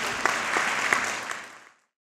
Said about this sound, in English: Dr. Colburn, if we can give her a round of applause